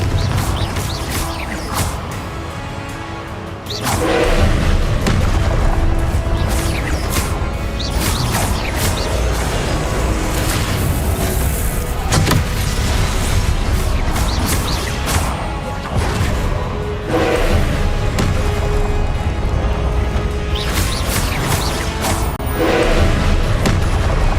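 Fire-spell explosions from Confringo in the video game Hogwarts Legacy go off as repeated loud crashing booms and whooshes, dense and continuous over a busy combat soundscape.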